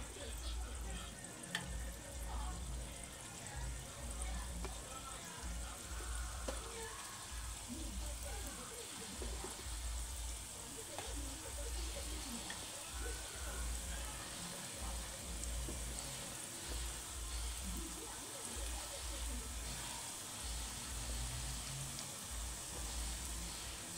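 Jaggery and wheat-flour dough pieces fry in hot oil in a kalai pan, giving a steady, soft sizzle and bubbling that runs evenly throughout at low level, with someone speaking over it.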